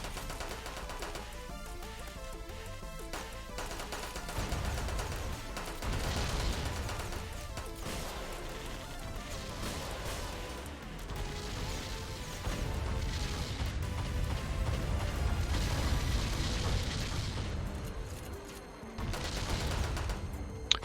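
Heavy cannon fire from a mech's back-mounted cannon in the game Metal Dogs, booming single shots that crash and rumble loudly over continuous battle noise with no talking.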